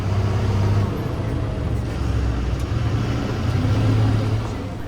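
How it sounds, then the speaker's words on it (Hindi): An HRTC bus drives on a mountain road near Kalpa, with a steady engine drone and road rumble heard from on board. "काफ़ी जद्दोजहद के बाद फिर बस यहाँ से निकली।"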